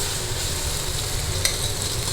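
Tomatoes and onions sautéing in a pan for a kovakkai masiyal, a steady close sizzle with a low frying rumble and a brief scrape of stirring partway through.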